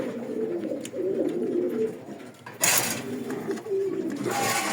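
A Golden Gizzle pigeon pair cooing in a breeding loft, soft repeated low throaty coos close by, with a brief burst of rustling or wing noise partway through.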